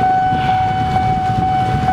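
Amtrak's Capitol Limited train rumbles steadily nearby as it departs Union Station under a sustained, even tonal whine, continuous and fairly loud throughout.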